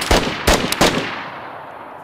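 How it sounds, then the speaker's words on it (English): Gunfire in the video game DayZ: three sharp, loud shots in quick succession, each ringing briefly before the sound fades away. "He's shooting at me, bro."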